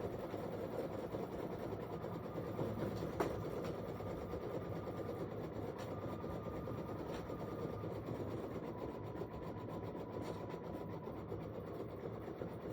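A home embroidery machine runs steadily while stitching a design, a continuous mechanical hum and rattle with faint periodic clicks throughout, fairly quiet and with no one talking.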